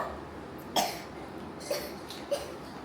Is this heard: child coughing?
yes